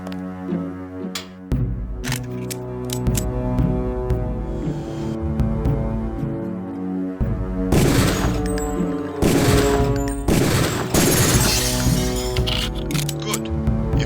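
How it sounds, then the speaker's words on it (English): Pistol shots fired at a shooting-range target in the game Deus Ex ring out as a series of sharp reports, with several loud, bright bursts clustered in the middle of a steady droning background. "take a few shots with one of the pistols until it is destroyed"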